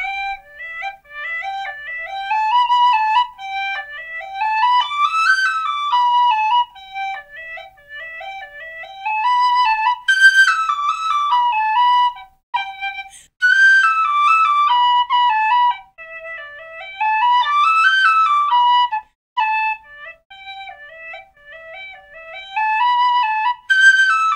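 A Lír high D tin whistle plays a lively tune alone, bright high notes rising and falling in quick phrases with brief pauses between them.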